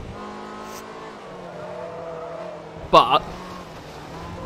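A yellow Ferrari F355 races in Forza Motorsport 3, its engine humming at moderate volume under a voice, then a short, loud burst of tire squeal near the middle before the drone continues.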